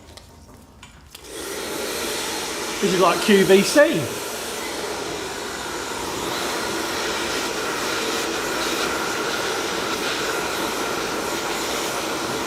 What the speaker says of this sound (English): When it'll dry off, I'm going to put a hair dryer on there.